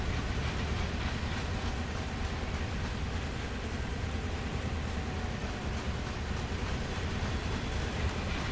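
A simulated train coasts along the Peninsula Corridor rail line in Train Sim World 2020, its wheels and rails producing a steady, even rumble at moderate volume without a break.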